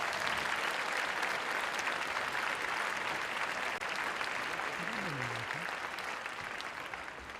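Broad, sustained applause from an audience fills the whole stretch, dense and even, tapering slightly toward the end with a faint voice briefly audible underneath.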